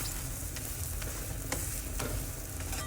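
Holige, also called obbattu, cooks in oil on a pan over a medium flame, giving a steady, close sizzle and frying crackle with a few brief scraping stirs.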